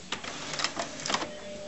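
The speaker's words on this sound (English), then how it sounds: "It's starting to go through its movements, and it's moved the cartridges to the left" An HP F4272 inkjet printer shifts its cartridge carriage, giving several short mechanical whirs and clicks in quick, uneven bursts. The sounds are close and moderately quiet, with no talking over them.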